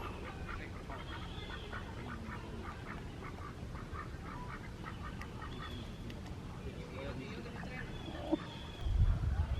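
Ducks quacking in rapid bursts at a moderate distance, over steady outdoor background noise.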